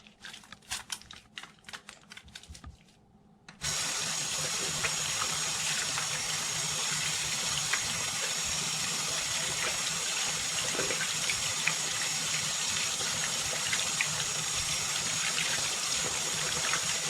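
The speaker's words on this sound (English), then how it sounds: "So I need to wash properly." Tap water gushes steadily and close for about thirteen seconds as hands are washed properly, following a few seconds of quieter clicks and dribbles before the flow opens up.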